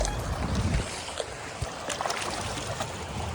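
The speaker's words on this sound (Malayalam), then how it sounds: "ഞങ്ങള് കൊട്ടവഞ്ചി വന്നിട്ടുണ്ട്." A round coracle boat carries passengers across a deep river at Hogenakkal, with a steady wash of rushing water and wind around it and small splashes and knocks close by.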